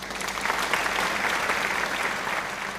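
A seminar audience applauds after a student's proposal presentation, a steady, dense patter of clapping filling the room from start to finish with no voices on top.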